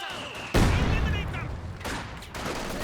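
Machine gun fire in the real-time strategy game Company of Heroes 2, with two MG positions firing; a loud burst of gunfire and explosive booms starts abruptly and carries on with bursts under ongoing battle noise, with a voice commentating over it.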